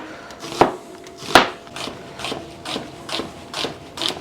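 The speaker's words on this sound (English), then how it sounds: "Hold your knife, put the tip here, and just push the onion in." A large onion sliced with a big knife, producing a series of crisp, fairly rhythmic cuts and thuds on the board at close range, about eight strokes and no talking.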